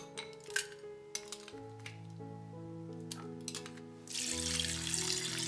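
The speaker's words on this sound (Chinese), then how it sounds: "再加2升的清水" Water poured into a clay soup pot already holding pork ribs and five-finger peach root for soup, a steady splashing pour that swells louder toward the end, with faint clinks of pot and utensils before it.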